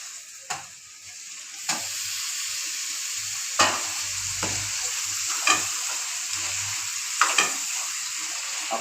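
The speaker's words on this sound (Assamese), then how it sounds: "এতিয়া মছলাটো সিজিলে, এতিয়া মাংসটো দিম।" Broiler chicken pieces fry in hot masala in a pan, with a steady loud sizzle and spatula stirring scrapes recurring every second or two, no voices.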